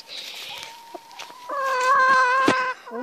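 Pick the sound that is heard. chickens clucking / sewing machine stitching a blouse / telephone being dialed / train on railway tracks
chickens clucking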